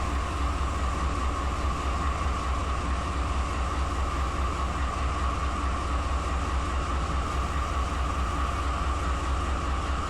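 A BNSF freight train running at about 70 mph across the desert in Run 8 Train Simulator: continuous, steady rumble and rail roar with a low hum, unbroken for the whole stretch, no voices.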